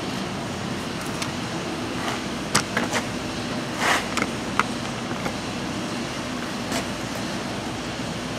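A trash bin cleaning machine runs with a steady broadband rushing drone, like pumped water and motor noise, punctuated by a few brief sharp clanks and hisses.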